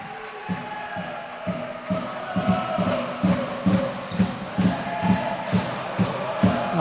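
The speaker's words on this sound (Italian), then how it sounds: "Gli applausi per Karim Gueye." A basketball crowd in an arena applauds a player with cheers and scattered shouts, while a ball bounces in a steady, regular rhythm on the court, moderately loud.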